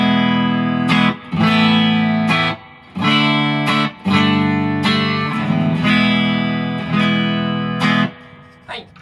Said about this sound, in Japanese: まずはこれ生のクリーントーンの音です。